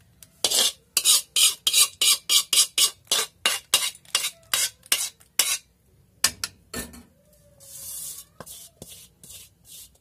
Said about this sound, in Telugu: ఇది మనం వేసేస్తున్నాం, మనం వేయించుకున్న జీడిపప్పు ద్రాక్ష